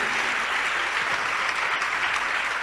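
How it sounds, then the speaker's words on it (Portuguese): Many worshippers clap together in a church service, a thick, continuous roar of applause holding steady at full strength for a few seconds. "vamos aplaudir muito o Senhor Jesus."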